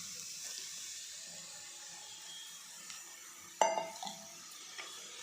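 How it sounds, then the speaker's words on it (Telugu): Mushrooms are added to a pan of frying onions and green chillies, giving a soft steady sizzle with a sudden clatter and stirring scrape midway, then quieter frying. "చూసారా, ఇలా మష్రూమ్స్ వేసుకుందాం."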